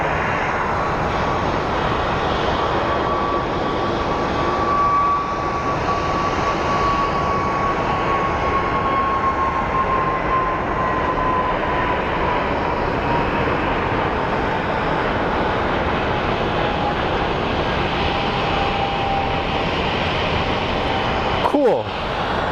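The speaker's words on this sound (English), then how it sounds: "Looks like it's Airbus A319 that's going over the bridge" An Airbus A319 airliner taxis at Phoenix Sky Harbor airport with a steady, loud engine roar and a faint high whine that slowly drifts in pitch, continuous throughout with a brief sharp knock near the end.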